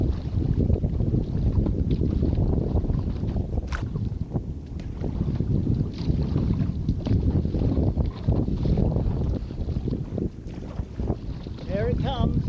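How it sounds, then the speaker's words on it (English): Strong wind buffets the microphone while a kayak is paddled hard into a headwind at sea off the Cornish coast, a steady loud rush with water splashes and paddle strokes throughout, and a voice briefly audible. "as we pass, the wind hits us in the face, so we have to paddle hard"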